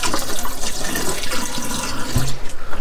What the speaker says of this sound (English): Pour a little bit down the sink.